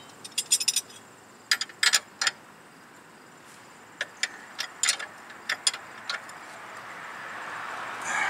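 A hand ratchet tightens the control arm bolts on a 2005 Chevy Aveo, giving bursts of quick metallic clicks in short runs separated by pauses, close and fairly crisp, with no talking.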